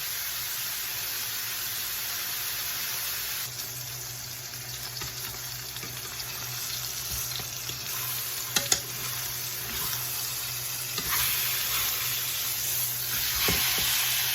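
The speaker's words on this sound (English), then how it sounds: "we're gonna let that sear for about 2 to 3 minutes on each side" Meat searing in a hot pan, a steady broadband sizzle that runs the whole time and swells a little louder in the second half, with a couple of brief clicks and no voices.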